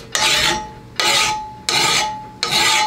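A coarse diamond-cut hand file sharpens a lawnmower blade, making four loud, close, rasping strokes at a steady rhythm, each one tailing off before the next begins, with no talk.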